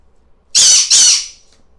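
A pet bird gives two loud, shrill squawks back to back, close by, set off by an alarm going off in the house, with no talk.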